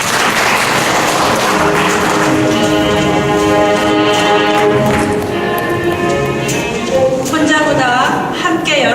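An audience claps to welcome a speaker at a retirement-life sharing concert, the applause running under a clear amplified voice and ringing, tonal sound throughout.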